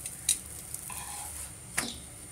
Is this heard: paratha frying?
yes